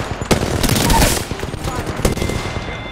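Gunfire in Apex Legends, a dense cluster of close, loud shots and impacts layered over busy game noise, with sharp cracks standing out near the start and end.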